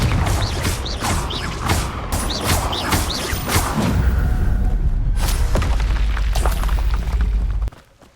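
Confringo spell blast from the Hogwarts Legacy video game, a dense, loud rumbling burst with crackling impacts that sustains for several seconds before cutting off abruptly.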